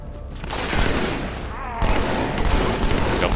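Dense bursts of automatic gunfire in Halo 2: Anniversary on the Cairo Station level, loud and continuous with dual-wielded weapons, under a speaking voice.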